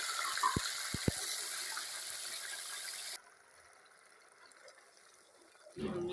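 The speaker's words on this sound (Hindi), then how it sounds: "ये जब चीनी इस कलर की हो जाए तो फिर हम इसमें 1 कप पानी का ऐड करेंगे।" Water poured into sugar melted in ghee gives a hissing, gushing sizzle for about three seconds, then cuts off to near silence before a brief renewed burst at the end.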